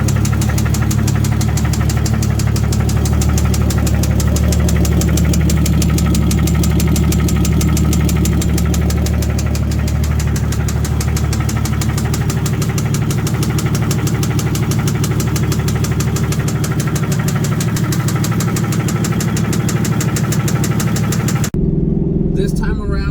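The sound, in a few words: engine rod knock, Mazda Miata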